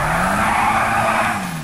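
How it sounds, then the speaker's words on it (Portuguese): A tuned Volkswagen Jetta in the GTA role-play game, its turbo engine revved hard with a sustained loud roar and tire-screech-like whine over about two seconds, tapering slightly at the end. "acelero aí. Escuta o espirro"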